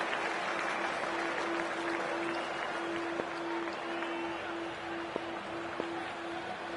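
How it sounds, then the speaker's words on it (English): Cricket stadium crowd cheering and applauding before the opening ball of an IPL match between KKR and PBKS, a broad, steady roar with a sustained horn-like tone running through it. "already the crowd is up and about"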